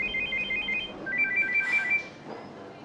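An unanswered telephone rings with a repeating electronic ringtone, short warbling bursts in two groups at moderate volume, followed by a brief rustle and quieter room sound.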